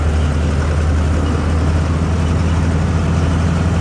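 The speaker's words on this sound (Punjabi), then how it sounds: "ਆਵਾਜ਼ ਬੜੀ ਪਿਆਰੀ ਆ ਕੋਟਾ ਟਰੈਕਟਰ ਵਰਗੀ ਆਵਾਜ਼ ਆ ਜੀ" A Mahindra Novo 655 CRDI tractor runs with a reaper attached, its diesel engine giving a steady, loud, low droning hum close by, unbroken throughout with no voices.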